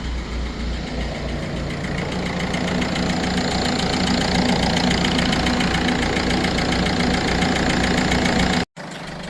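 A Ford Fiesta engine idles after a cambelt replacement, a steady close mechanical rumble with a fast even ticking pulse, loud and unbroken for several seconds before a brief cut, with no talk.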